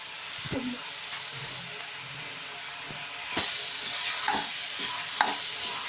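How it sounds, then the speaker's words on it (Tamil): Ginger garlic paste frying with vegetables for a vegetable biryani sizzles quietly in a pan, with several distinct scrapes and clinks of a spoon stirring through the mix over a soft steady hiss. "இஞ்சி பூண்டு பேஸ்ட்டு போட்டுக்கணும்"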